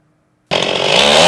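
A chainsaw roars to life and cuts into oak trees in the San Diego County mountains, starting abruptly after a brief silence and holding a loud, close, steady whine.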